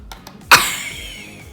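One sharp cough close by, sudden and brief, trailing into a soft hiss of background noise.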